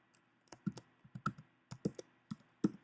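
A computer keyboard is typed on up close in short irregular bursts of crisp key clicks and taps, about a dozen strokes against a quiet room, with no talking.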